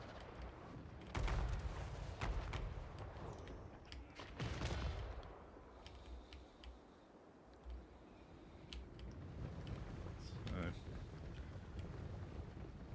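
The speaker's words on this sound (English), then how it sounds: "I want the Great Cannons to actually fire at them." Great Cannons fire in a Total War Warhammer 3 battle, with a few heavy booming blasts rising out of a low, windy battlefield din, fairly faint overall.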